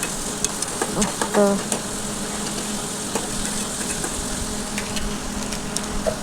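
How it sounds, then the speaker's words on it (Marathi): Onions and tomatoes fry in hot oil with a steady, close sizzle and a few stirring scrapes, and a voice speaks briefly over it. "कांदे, टमॅटो आणि कांदा मी तेलात टाकून तळून घेते"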